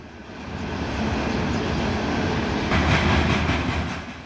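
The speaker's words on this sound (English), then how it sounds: "Coal is delivered to the power plant from the mine by freight trains." A heavy coal freight train rolls past in mountainous Colorado, a loud continuous rumble of wagons and wheels that swells slightly toward the end, with no voices.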